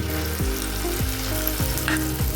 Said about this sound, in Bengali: আমি এখন এই ব্যাটারটাকে আস্তে আস্তে গোল গোল করে ভেজে নেব